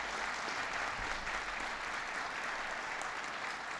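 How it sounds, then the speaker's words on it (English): An audience applauds a newly appointed National Economic Council director, Gene Sperling, in a steady wash of clapping that holds through the whole moment without voices. "Give Gene a big round of applause"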